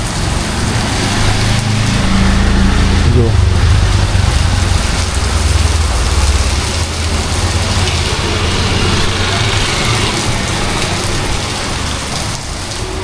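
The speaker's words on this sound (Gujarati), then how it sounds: "કેવો વરસાદ આવે છે" Heavy monsoon-style rain pours steadily outside a shop on a hot evening, a loud, dense, unbroken roar of drops hitting surfaces, with a faint passing vehicle rumble early on.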